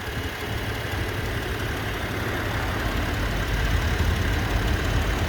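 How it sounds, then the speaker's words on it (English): A 2012 Subaru Outback 3.6R Limited's flat-six engine idles steadily with a smooth, even low rumble, recorded up close under the open hood with no talking. "I'll let you listen to the engine idling uninterrupted."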